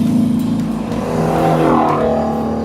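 A Ford Mustang GT-350 V8 engine revs hard nearby, its deep rumble climbing steadily in pitch as it accelerates toward 8,250 rpm, loud and continuous.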